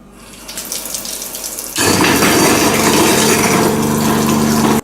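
Tap water running into a kitchen sink with a waste disposal unit, a soft trickle that suddenly becomes a loud, steady, close gush with an underlying hum, then cuts off sharply at the end.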